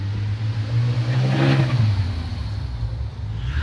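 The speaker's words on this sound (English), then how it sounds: "Yeah, an 80s Porsche in central London." A 1980s Porsche accelerating in central London, its engine note swelling to a mid-clip peak and easing off as it passes in traffic, with no talk.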